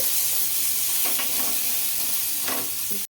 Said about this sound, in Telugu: వెల్లుల్లి రెబ్బలు జీలకర్ర అన్నీ మగ్గి మగ్గించుకోవాలండి బాగా ఆయిల్లో